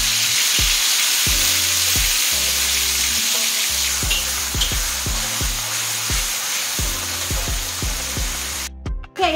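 Blended spice paste frying in a pot with whole spices such as cinnamon, star anise and cardamom, giving a steady loud sizzle throughout with repeated low knocks of stirring.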